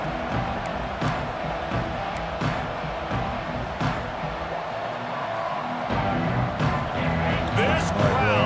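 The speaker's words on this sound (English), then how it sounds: "This crowd, sweating the eardrums and letting him know it's going to be a long day." A football stadium crowd roars in a dense, sustained wash of noise that swells slightly toward the end, with a commentator's voice running over it.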